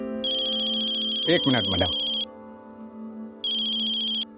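A mobile phone ringtone rings in a shop setting, a loud electronic tone that stops, then resumes briefly, while someone says a few words between the rings.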